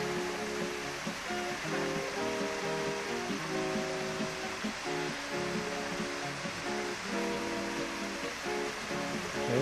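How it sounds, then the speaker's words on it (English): A small waterfall on a mountain hiking trail near Whistler rushes steadily as broadband water noise, close and continuous throughout, with no talking. "She has to cross a little waterfall."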